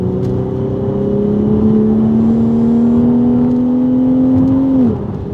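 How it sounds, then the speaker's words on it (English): A BMW fitted with coilovers, driving over a bumpy bridge, downshifts as its engine note climbs in a sustained rev from inside the cabin, then drops off abruptly near the end. "Let's hit a downshift."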